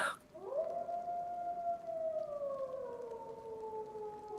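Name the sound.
wolves howling in a video game (DayZ)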